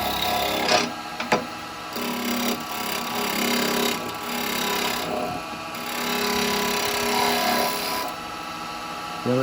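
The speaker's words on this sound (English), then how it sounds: "I'm not going to get as big a cut with a carbide as I will with a bowl gouge, but I'm getting shavings" A carbide chisel cuts into spinning maple on a woodturning lathe, throwing off shavings with a steady, close rasping scrape that rises and dips slightly over several seconds.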